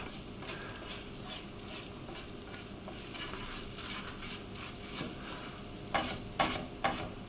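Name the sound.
herbs and garlic sizzling in frying pan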